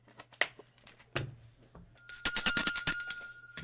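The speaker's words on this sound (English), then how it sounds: "That's the technical foul bell." A few isolated clicks and taps lead into a loud, rapid metallic bell ringing for about a second and a half, used as a technical foul sound effect during a chaotic radio-style stream.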